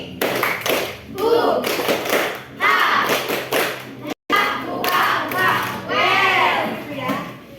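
A class of children claps the 'tepuk semangat velocity' chant during a puberty-themed lesson, with rhythmic bursts of hand claps mixed with children's voices chanting, loud and close, briefly cut by a short silent gap.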